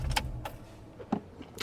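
Keys jangle and click in the ignition of a 2011 Ford F150 XLT pickup as it is switched off, a few short close clicks and rattles with a low rumble fading at the start.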